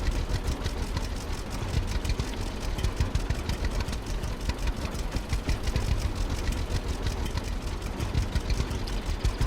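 A tractor engine in the farming video game Farmers Dynasty runs steadily, giving a loud, continuous rumbling chug with a rapid knocking pulse and no pauses.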